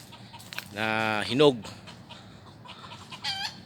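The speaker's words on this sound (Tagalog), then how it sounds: "May manok pa." A chicken clucks and crows up close during a dates harvest in Kuwait on a hot afternoon, one drawn-out crow with a short call after it, while people talk quietly nearby.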